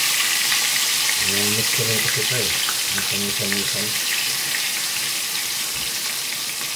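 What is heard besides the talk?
deep frying fish in oil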